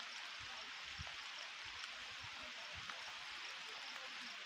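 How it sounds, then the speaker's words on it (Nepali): Steady rain falls in a forest, a soft continuous hiss with faint scattered drips and patters, fairly quiet and distant, with no one talking. "झरर पानी परेको छ।"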